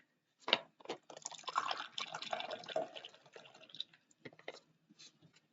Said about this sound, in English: think I'll pour myself a cup of coffee.